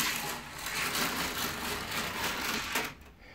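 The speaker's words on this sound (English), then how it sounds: "when it hit the top, the motor just slowed down a little bit" Whirring, gritty hum of a LEGO Mindstorms motor driving the lift of a LEGO Creator Expert 10261 roller coaster, running steadily close up and then slowing and fading near the end.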